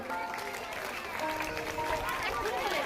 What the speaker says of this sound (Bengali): একটু হাততালি হোক।